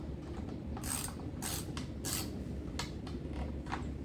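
A ratchet wrench tightens a nut on a worn Toro TimeCutter zero-turn mower, with close, crisp clicking strokes in short bursts and brief pauses between them.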